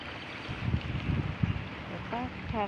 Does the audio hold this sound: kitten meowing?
no